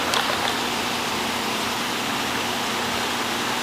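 Conveyor dryer running while curing plastisol ink on printed T-shirts, a steady broadband whooshing hum with a faint tonal drone, close and continuous with no talk.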